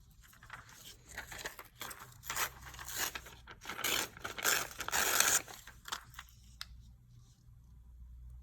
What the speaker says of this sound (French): Donc je vais couper cette partie-là.